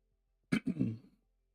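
A single short cough or throat clear, close and fairly loud, one sharp burst followed by a rougher trailing rasp, with silence on either side.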